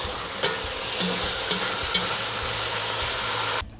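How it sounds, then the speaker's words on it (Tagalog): Meat for dinuguan, a Filipino blood stew, sizzles and simmers in a pot with bay leaves and black pepper. The noise is a steady, close hiss with a few soft clicks, then it stops abruptly. "Hayaan lang natin magluto yung karne."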